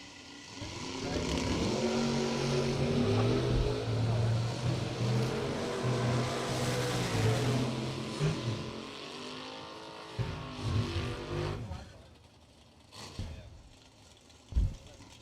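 Drag racing cars, including a Chevrolet Vega, launching at a bracket race: loud sustained engine roar and rising harmonic drone for several seconds, fading out and followed by a few sharp pops and bangs.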